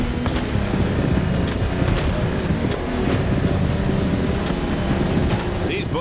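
A Lamborghini Technomar speedboat in The Crew Motorfest drones steadily on open water, its engine churning under constant wind buffeting and splashing spray, with faint voices in the mix.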